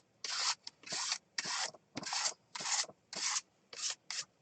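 A scraping tool rasps across a paint palette to clean it, eight firm, evenly spaced strokes, each a close, gritty scrape about a third of a second long, with brief pauses between.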